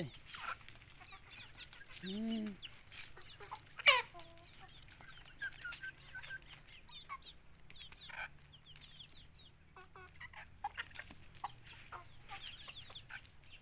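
Domestic chickens cluck around a farmyard feeding spot, with one louder rooster-like call and a sharp squawk rising above a steady bed of soft, scattered clucks and rustling over roughly thirteen seconds.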